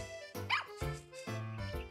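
Cartoonish dog barks from Nintendogs + Cats gameplay, four clear bow-wow yips in quick succession, close and fairly loud with no talking.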